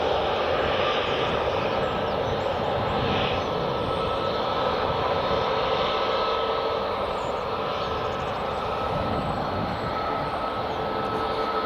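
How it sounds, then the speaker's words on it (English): A Jet2 Airbus A321neo at Edinburgh Airport sends out a loud, steady jet engine roar with broad rumbling and hissing noise that holds constant throughout, close and without talk. "here comes the Jet2 A321neo"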